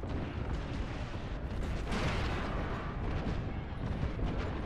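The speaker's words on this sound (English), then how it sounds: "Yo, we got an airstrike coming down." Apex Legends airstrike explosions roar as a continuous, dense rumbling barrage with booming blasts blending into one another, loud and sustained throughout, with no talk.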